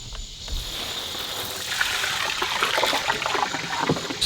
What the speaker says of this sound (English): Just filling up all the waters.